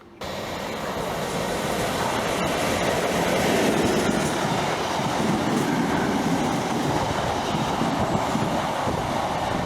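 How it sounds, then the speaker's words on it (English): A train approaches a station platform on the East Coast Main Line, its rumble swelling quickly to a loud, sustained roar of wheels on rails with rattling clatter. "There's a train approaching."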